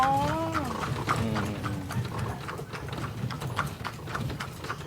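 Hooves of a carriage horse clip-clop steadily on pavement during a ride at Wat Phra That Lampang Luang in Thailand, close and continuous, with a brief whinny-like call near the start.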